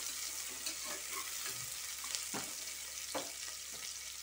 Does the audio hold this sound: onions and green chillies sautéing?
yes